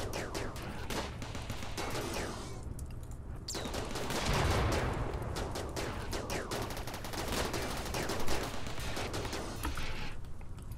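Turret gunfire in the video game RimWorld rattles in rapid repeated bursts, a dense continuous crackle of shots at low overall volume.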